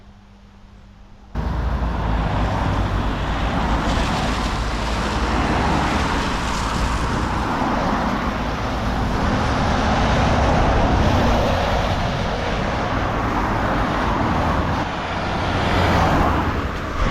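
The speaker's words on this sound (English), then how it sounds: "it felt strange and slightly jarring to have the peace broken by the sounds of cars" Steady traffic noise from cars passing on the busy A40 road, a continuous near roar with swells as vehicles go by, running throughout with no voices after a short quiet start.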